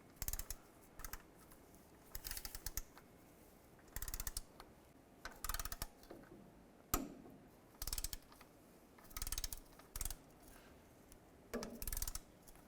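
A torque wrench ratchets as it tightens the transmission oil pan bolts on a 2004-2012 Chevrolet Colorado. About ten separate bursts of quick clicking come close and quiet, with short gaps between them.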